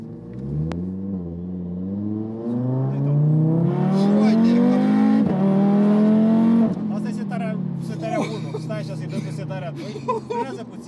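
An Audi TT RS engine, tuned to 650 hp, revs up with rising pitch, loud and close, then settles into a steady drone as people talk over it.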